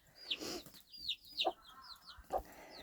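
Hens and baby chicks on a small backyard flock cluck and peep in a quick series of short calls, close and clear with light background noise.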